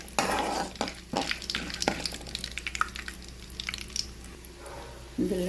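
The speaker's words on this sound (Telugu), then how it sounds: "శనగపప్పు కూడా వేసినండి." Chana dal and tempering seeds fry in hot oil in a pan with a steady close sizzle. A spoon stirs and scrapes against the metal in quick irregular clicks throughout, and no one talks.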